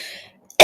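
A single sharp cough bursts out abruptly at the end, close and fairly loud, after a short fading breathy sound and brief silence.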